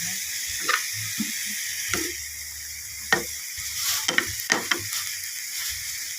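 Chicken and mushrooms stir-fried in a pan, a steady soft sizzle with intermittent scraping and clinking of the spatula as the ingredients are tossed, close and fairly quiet.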